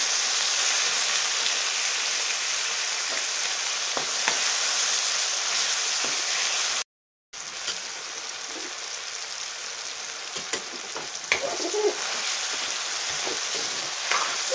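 Tomatoes sautéing in a pan over low heat, a steady close sizzle with soft crackles and a brief gap of silence partway through, with occasional stirring clinks near the end.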